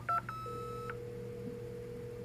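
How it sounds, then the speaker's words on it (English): Dial-up internet connection dialing tones: a quick burst of loud touch-tone beeps that gives way to a long, steady, quieter tone over a low background hum. "you'd get 500 hours free, but only after you spent 3 hours waiting for the dial up to connect"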